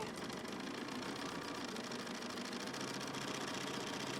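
Sewing machine chain piecing scrap fabric quilt block pieces with a quarter-inch seam, a steady, close motor hum running without pause.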